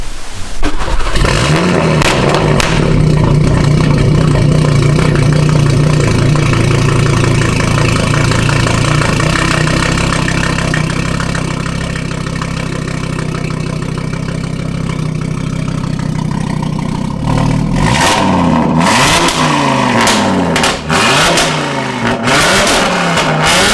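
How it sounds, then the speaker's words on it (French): An Audi RS3 with a forged stage 4 engine of over 700 hp fires up and settles into a loud, rough idle, then is blipped through several sharp revs, close and very loud. "Et on va démarrer."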